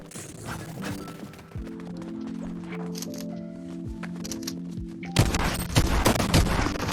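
Bursts of rapid gunfire in a video game, several close volleys with sharp repeated cracks over a steady in-game hum, turning louder and denser toward the end.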